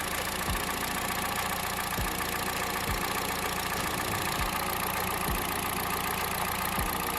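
A car engine runs steadily at idle during an ignition coil check, with a heavy, low thump recurring about once every second over a constant rumble.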